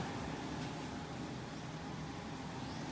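A constant, even whoosh of an air conditioner running in a resort pool villa, steady and unbroken with no voices.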